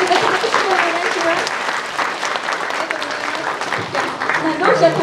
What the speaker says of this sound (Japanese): 賛同される方の拍手をお願いします